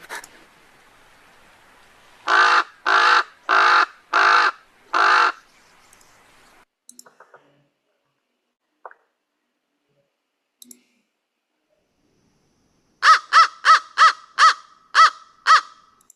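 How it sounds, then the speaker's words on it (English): Recorded crow calls play: a run of five loud, harsh caws, a quiet stretch with a few faint clicks, then a quicker burst of seven higher-pitched caws, close and clear. "These are crow sounds again."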